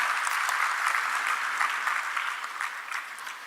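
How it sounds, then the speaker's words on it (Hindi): A crowd at an award ceremony in Bhopal claps steadily to welcome an honoree, a dense, even applause that continues throughout with no other sounds. "तालियों से स्वागत करें श्री राहुल देशमुख जी का।"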